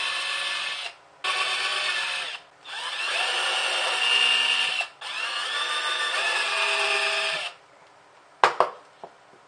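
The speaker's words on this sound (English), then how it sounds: "So first, just drill the little holes in a small block of wood." A power drill with a 1/16 inch bit whines in three long bursts with short pauses between, boring small holes into a small wood block up close, then a few sharp clunks.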